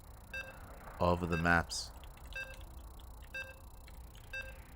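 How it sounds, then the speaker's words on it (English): Short, clean electronic beeps repeat at uneven intervals as players load into a map during a competitive online video game tournament match, while someone briefly speaks over them. "And you can hear the beeps. We're loading on it."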